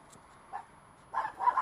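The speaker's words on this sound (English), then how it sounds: "Look at the puppies." Puppies give short yips and whimpering barks in a few brief bursts, fairly close, with no talk.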